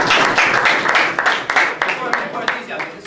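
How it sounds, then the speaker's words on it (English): Audience at a debating event claps in a dense, loud burst of close applause that gradually thins out toward the end. "If you give him a round of applause."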